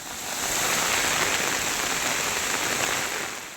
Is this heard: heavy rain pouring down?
yes